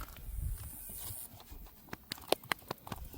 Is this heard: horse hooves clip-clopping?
yes